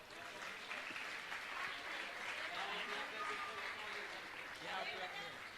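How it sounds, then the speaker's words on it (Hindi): A seated audience at a religious discourse gathering claps for a calendar being offered to every household, a faint, even wash of applause that holds steady throughout. "लोग तालियां जरूर बजा देना।"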